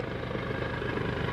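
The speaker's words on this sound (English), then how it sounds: "there's that chopper" A helicopter circling overhead during live coverage of the January 9th Montecito mudslide, its rotor throbbing in a loud, steady rhythmic chop with no voices.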